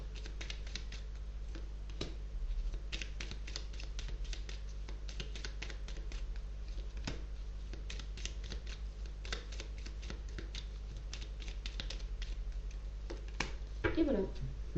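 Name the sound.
tarot cards being drawn and handled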